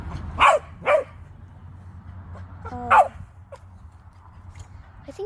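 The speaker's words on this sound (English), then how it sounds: "I think he's just barking at the berries." A cocker spaniel barks at berries in a tree, three loud sharp barks spaced apart with a few quieter yips and whimpers between them, over low background hum.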